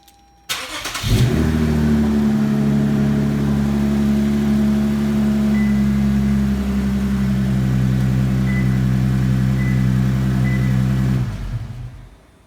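A Lexus car engine, started by a factory key fob remote start, cranks briefly and catches, then idles steadily and loudly for about ten seconds before shutting off. No one talks.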